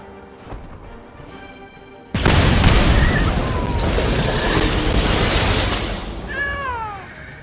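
A house cat meows a few times near the end, rising and falling in pitch, after a loud, sustained boom and rumble from a card game plays over it.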